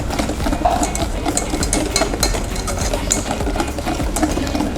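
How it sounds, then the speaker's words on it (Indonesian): Egg yolk mixture for a strawberry tiramisu-style dessert is whisked in a bowl over hot water, producing a steady, fairly loud scraping and clinking of the whisk with rapid repeated strokes and no voices. "setelah kita aduk, kita bisa aduk di atas air panas hingga suhu mencapai 65 derajat"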